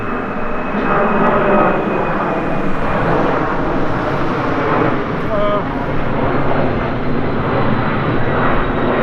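Airplane engine roaring overhead close to an airport in Old Louisville, loud and sustained throughout, a broad steady rumble with traffic-like wash beneath.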